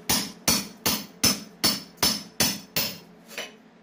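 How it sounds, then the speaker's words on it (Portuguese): A hammer breaking through a wall to open a hole for an exhaust fan, eight or nine sharp, evenly spaced blows, close and loud, the last ones weaker, with no talk. "Viu o martelo, Sofia?"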